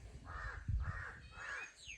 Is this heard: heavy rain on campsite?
no